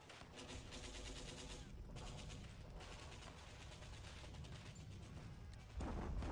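Tank gunfire and cannon blasts in a World War II strategy video game, a dense continuous barrage of loud overlapping shots and rumbling booms with no pause, growing heavier near the end.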